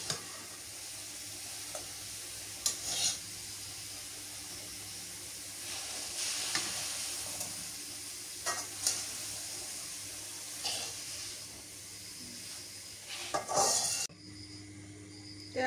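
Radish greens sauté in mustard oil with a continuous soft sizzle, broken every few seconds by clinks and scrapes of a utensil stirring in the pan, heard up close without any talking.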